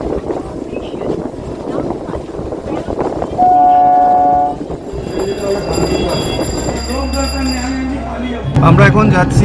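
A passenger train runs along the line, its rumble joined by a loud sustained horn blast and further tonal horn and whistle sounds, with voices talking in the carriage.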